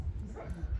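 A golden retriever mother lets out a brief, close whimper, a soft whine over a low rumble lasting under a second.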